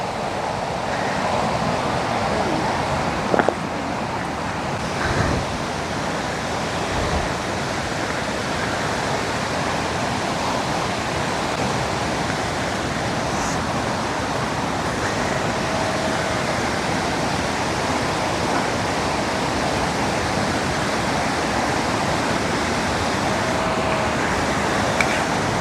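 A waterfall seen on a hike near Tatev in Armenia gives a continuous, steady rushing roar, broad and unbroken for the whole stretch, with no voices.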